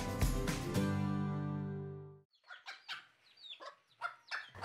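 A giant chicken breed with long silky feathers down to its feet clucks in short, irregular bursts, close by, after a sustained musical tone fades out.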